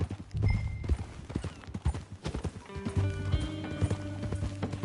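Galloping horse hooves in Red Dead Redemption 2 on PS4, a steady rapid clip-clop running close and loud throughout, with a brief whinny and game ambience mixed in.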